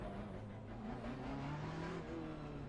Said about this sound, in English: Put the engine on.